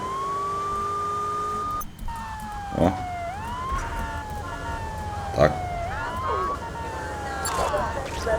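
Police car siren in GTA 3, wailing tones that rise and fall over a constant engine and traffic rumble, with a few thuds and bangs, loud and near throughout.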